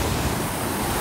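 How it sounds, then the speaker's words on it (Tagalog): Ocean surf and wind at the shore of a camp resort in Bacon, heard as a loud, dense, continuous wash of waves and gusting wind buffeting the microphone. "Grabe yung alo dito."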